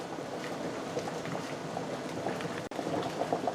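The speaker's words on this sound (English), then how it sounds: "I'm going to let it boil for at least another 6 minutes" Potatoes boiling in a pot of water for creamy mashed potatoes, a steady bubbling, churning wash that runs throughout with a brief dropout near the end.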